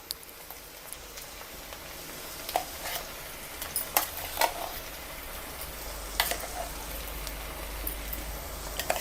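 Onion paste dropped into a pan of half-cooked raw banana, sizzling steadily in oil with scattered sharp crackles and pops, close and fairly quiet, no voices.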